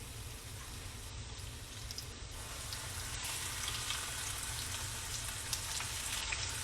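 Quiet, continuous sizzling and crackling of sea bass frying in hot oil, with faint pops scattered through and no talking.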